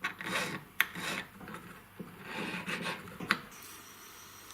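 Excess solder is filed off a jewelry pendant, producing quiet close rasping strokes with a few sharp metallic ticks, uneven in rhythm and without talk.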